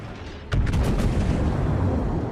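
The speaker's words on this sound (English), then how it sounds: "Well, that was an almost perfect broadside." A battleship's main guns fire a broadside in World of Warships: one sudden, heavy boom followed by a rolling, thunderous rumble that keeps going to the end.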